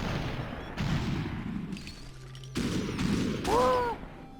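Gunfire from the Superhot video game comes in several bursts and booms, some sharp and some muffled, separated by short quiet gaps, with a short vocal exclamation near the end.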